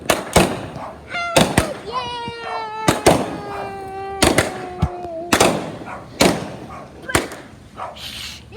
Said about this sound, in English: There is more fireworks